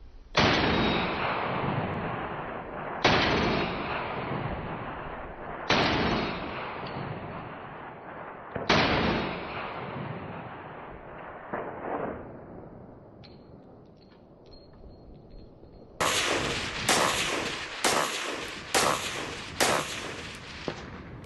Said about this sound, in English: Me and Ted pulled out our SKSs, which you saw in some of the bear videos, and they're just fun to shoot